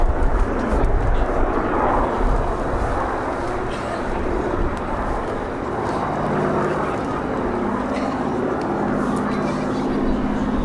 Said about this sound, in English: P-38 being flown by Raymond Reedman